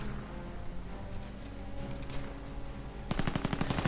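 Machine gun fire from a Bren carrier in a World War II strategy game, first a loud continuous rumble of battle, then a rapid, rhythmic burst of automatic fire near the end with no talking.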